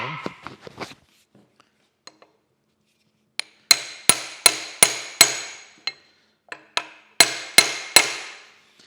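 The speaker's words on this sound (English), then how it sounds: "let me just get a hammer and a punch here and I'll drive that home" Hammer striking a punch to drive a tapered pin into a pulley on a Sellers 6G drill grinder spindle, a dozen sharp metallic blows in uneven bursts, close and loud, after a few lighter taps.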